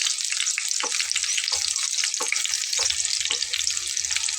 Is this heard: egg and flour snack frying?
yes